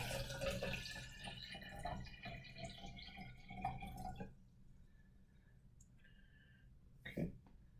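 Water poured into a cup in a latent heat of fusion experiment, a steady splashing stream lasting about four seconds, followed by quiet room tone and a brief clink.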